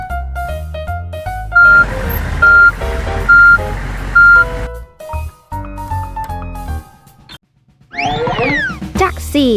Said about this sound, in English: A garbage truck goes beep beep beep.